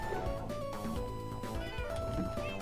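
A cat meows repeatedly in a Minecraft survival world, several short mewing calls layered over a busy, steady game background with music-like tones.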